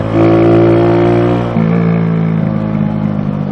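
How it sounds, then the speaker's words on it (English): A Honda Grom motorcycle engine revs loudly and steadily up close, its droning pitch dropping midway, then rumbling on with rattly clatter. "I'm going to try to rev my engine as loud as I can"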